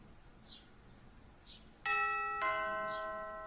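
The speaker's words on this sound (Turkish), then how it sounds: "Ve kapı çalıyor. Ding dong" A doorbell in a horror short film gives a clear two-note ding-dong that rings on and fades slowly, preceded by a few faint, high chirps in a quiet room.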